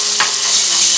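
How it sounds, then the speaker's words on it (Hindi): Ginger garlic paste hitting hot oil in a pan, the start of cooking pav bhaji: a close, steady sizzle with brief stirring scrapes, lasting about a second with no voices. "तेल गर्म हो चुका है, अब हम इसमें डालेंगे 1 चम्मच अदरक लहसुन का पेस्ट"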